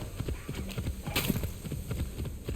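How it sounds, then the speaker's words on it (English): A horse's hooves clip-clop steadily at a walking pace in the video game Assassin's Creed Shadows, a moderately loud rhythmic series of muffled thuds heard on their own. "I know I wouldn't confuse that for anything but a horse."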